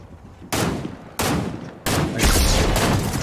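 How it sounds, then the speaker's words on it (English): Gunfire in the Fortnite video game: three loud, sharp shots about a second apart, each with a long ringing tail that stays up between blasts, with no talking. "I see him, I'm gonna shoot him, snipe him."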